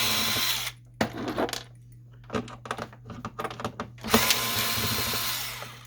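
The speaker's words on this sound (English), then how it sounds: "we're going to remove the 3 screws here." A power screwdriver whirs close by, backing out screws from a Lexmark printer in a few bursts, with clicks and handling clatter in the quieter gap between them.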